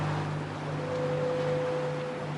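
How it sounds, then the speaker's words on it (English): A lighthouse foghorn on the coast sounds a steady low tone, joined partway through by a second higher note, over a constant wash of wind and sea. "The foghorn is running at the moment, so you'll probably find that quite annoying, the noise from the foghorn."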